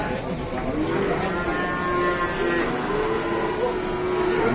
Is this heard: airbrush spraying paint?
no